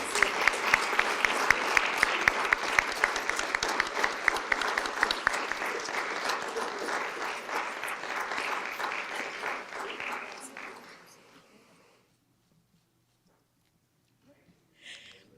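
An audience at a school board of education meeting applauds recognized teachers. Crisp, close claps ride over a full round of clapping that thins out and stops, followed by near silence and a faint stray noise.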